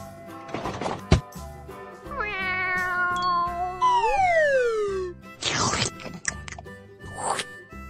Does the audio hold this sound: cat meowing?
yes